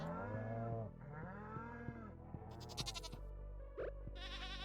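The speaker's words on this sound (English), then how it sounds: "There's the baby goats." Several baby goats bleat in turn in the video game Stardew Valley, high wavering cries close by, with a brief squeaky chirp near the end and no talking.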